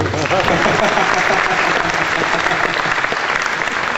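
An audience at a developer conference bonus session gives loud, dense applause that holds steady for a few seconds.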